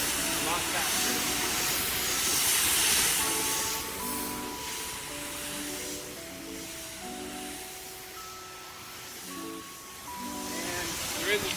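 A pressure washer surface cleaner sprays across a dirty pool deck, giving a steady, fairly quiet broadband hiss with sustained tonal notes drifting over it.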